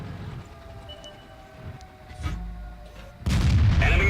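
A Caernarvon tank in World of Tanks fires a single blind shot, a sudden loud boom near the end that follows a low engine rumble and scattered faint clanks.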